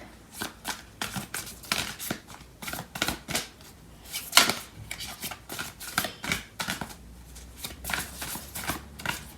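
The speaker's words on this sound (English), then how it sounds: "So I'm going to pull out some cards from the other deck." Tarot cards are shuffled and pulled from a deck in a steady run of crisp, close riffles and flicks, with one sharper snap midway and no talking.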